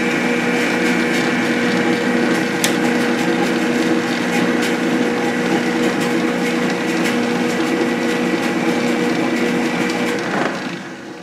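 A metal lathe motor runs while a multi-start thread is being cut, giving a loud, steady mechanical drone with a humming tone that holds evenly and then begins to wind down near the end.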